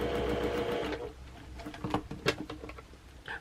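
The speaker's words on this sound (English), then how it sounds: "I ran out of thread. That's so funny. I sewed that whole thing." A sewing machine stitches a quilt block in a steady, close, rapid whir for about a second, then runs in shorter uneven bursts with light clicks and handling noise.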